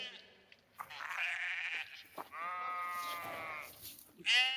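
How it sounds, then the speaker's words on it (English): A sheep stuck in a ditch gives several wavering, nasal bleats in close succession, fairly near and moderately loud, against a quiet outdoor background. "You see the sheep stuck in the ditch?"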